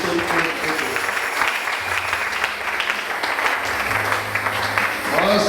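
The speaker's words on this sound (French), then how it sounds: "Applaudissez pour le Seigneur" A church congregation at a French-language prayer marathon breaks into sustained applause, dense and steady clapping filling the room with a murmur of voices underneath.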